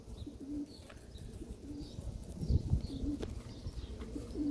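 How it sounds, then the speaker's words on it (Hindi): Pigeon cooing close by, a hen pigeon being handled at home, with soft low coos repeating at short intervals over faint background noise and a brief rustle midway. "अब ये जो मेरी कबूतरी है"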